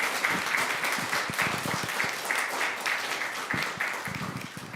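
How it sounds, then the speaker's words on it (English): Audience applause in a school board meeting as preschool staff stand to be recognized; a dense, steady wash of clapping from many hands, fairly close and sustained throughout without talk. "give you a much-deserved round of applause"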